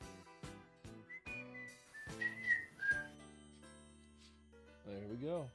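A live concert crowd whistles a melody along with a song. It comes as a run of short whistled notes followed by sustained tones.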